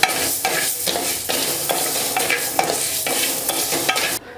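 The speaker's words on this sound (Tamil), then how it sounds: "முதல்ல வந்து ஒரு கடாயில் இந்த பச்சை பயிரை நல்லா வறுத்துக்கலாம்." Green gram is dry roasted in a kadai, the seeds rattling and scraping against the pan as they are stirred in repeated strokes, a close, steady rhythm with no talking.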